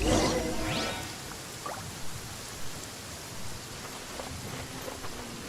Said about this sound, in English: As long as the rain don't let up.